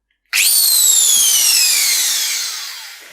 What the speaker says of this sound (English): So option number one is to use a drill.